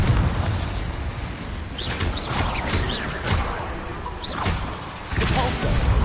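Fiery Confringo spell blasts in Hogwarts Legacy combat, a run of booming bursts and crackling impacts over a dense rumbling battle bed, with a heavier hit near the end.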